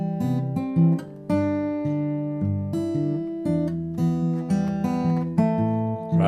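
Danny Boy played on acoustic guitar with Travis picking, the melody syncopated against a steady thumb bass; bright plucked notes ring close and continuous through the phrase, with no voice.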